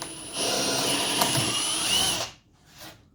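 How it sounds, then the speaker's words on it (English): A power drill whirs steadily for about two seconds, winds down, then gives a brief second burst, close and loud. "drill a couple of holes in the corners, get the jigsaw in,"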